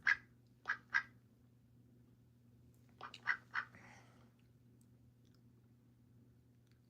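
Olivia Gray, a pet duck, gives two quick sets of three nasal quacks, close and fairly loud, over a low steady hum with quiet pauses between.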